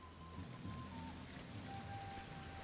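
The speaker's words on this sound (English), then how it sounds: "A little bit of rain. Hopefully it's a nice rain." Rain falling in the game Ancestors: The Humankind Odyssey, a steady soft hiss of drops on surfaces with a low ambient rumble beneath, continuous and fairly quiet.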